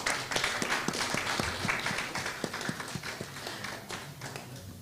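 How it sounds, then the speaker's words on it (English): A public lecture audience applauding, dense rapid clapping that holds steady for several seconds and then begins to thin out, moderately loud and without speech. "I want us to give him a round of applause"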